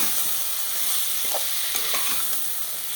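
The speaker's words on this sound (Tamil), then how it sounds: "உருளைக்கிழங்கு நல்லா அந்த மசாலாவோடு சேர்த்து நல்லா கிளறி விட்டுடலாம்" Potatoes being stirred into masala in a pan make a loud, close, continuous sizzle with soft scraping strokes of the spoon and no speech.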